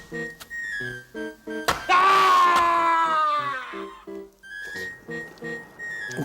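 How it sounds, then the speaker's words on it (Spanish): A strange, drawn-out human scream from an old Spanish horror television tale, loud and wavering, rising out of eerie music with a rhythmic pattern before and after it. "Qué alarido tan extraño"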